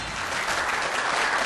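Audience applause welcoming a lecturer onto a Korean science broadcast stage, a steady dense wash of clapping, moderately loud and unbroken, alone without voices.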